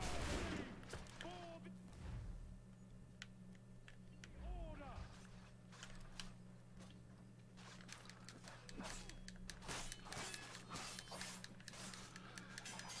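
Musket gunfire crackles during a combat scene in Assassin's Creed 3 Remastered, scattered sharp shots and a ragged volley over a steady low game hum, with shouting voices and battle noise mixed in throughout.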